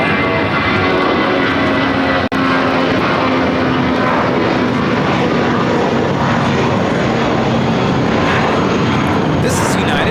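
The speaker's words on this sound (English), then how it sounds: "This is United Airlines 276 taking off to Jackson on the A320" A United Airlines A320 airliner takes off from LAX, a loud, steady broadband engine roar that holds for the whole stretch, with voices talking over it.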